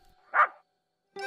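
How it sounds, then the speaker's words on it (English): A dog barks once, then gives a short higher yelp after a pause, both fairly faint and set in otherwise quiet surroundings. "Suddenly, Boris heard the sound of barking in the distance"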